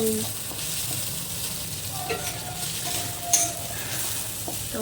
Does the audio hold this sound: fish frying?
yes